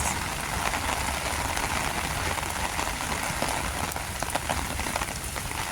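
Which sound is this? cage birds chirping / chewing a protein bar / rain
rain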